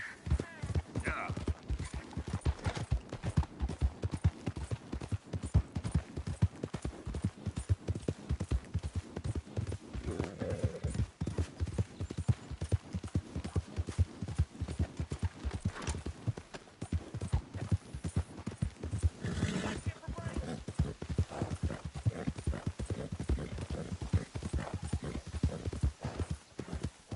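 Steady clip-clop of horse hooves at a trotting rhythm in the video game Red Dead Redemption 2, close and continuous, with faint voices now and then.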